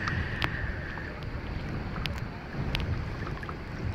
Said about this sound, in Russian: Но вот ветерочек поднялся немножко так.